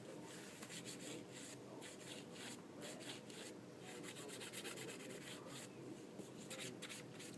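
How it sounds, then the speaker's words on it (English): A nail file rubs lightly back and forth across an acrylic overlay on a natural nail, a soft, steady, close rasping that runs continuously with faint rhythmic strokes. "So we really lightly file, okay? Going across, but making sure we don't hit any of the tissue."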